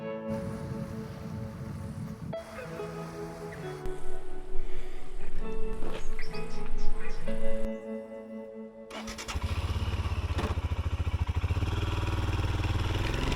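A Royal Enfield motorcycle ridden along a road in Tasmania toward Bicheno. Its steady, loud engine rumble takes over after several seconds of tonal music, then holds at an even pitch to the end.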